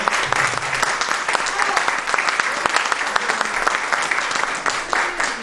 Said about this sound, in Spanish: la compañera Daisy se merece un tremendo aplauso.